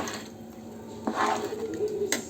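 Veg pulao ingredients being mixed inside a pressure cooker, with soft scraping, squishing stirs and a few light metallic clinks, close and fairly quiet.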